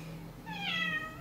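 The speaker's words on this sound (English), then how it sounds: "My kitty's meowing at me." A pet cat gives a single drawn-out meow, close and fairly loud over a low steady background hum, rising then falling in pitch.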